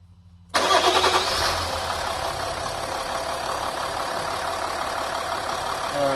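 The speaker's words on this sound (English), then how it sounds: "I'll just start the car quickly." A 2012 Nissan Navara V6 diesel engine cranks and fires after a brief quiet moment, roaring up loudly before settling into a steady, close idle with a diesel clatter.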